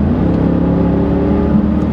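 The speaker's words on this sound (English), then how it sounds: "that's a great V8 noise" Deep V8 engine of a Jeep Grand Cherokee SRT8 rumbles steadily under throttle, a dense, loud, continuous growl heard from close by with no talking.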